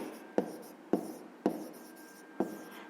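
Pen writing on paper during a fifth-grade maths lesson, four short distinct scratching strokes spaced about half a second to a second apart, close and quiet, with no speech.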